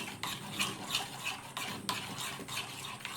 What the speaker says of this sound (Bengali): এবার সব কিছু খুব ভালোভাবে মিশিয়ে নিতে হবে।